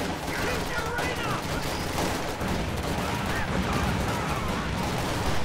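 Volksgrenadier infantry exchange fire with assault engineers in a strategy game, a dense, continuous clatter of rifle and machine gun bursts, loud throughout, with a voice talking over the battle.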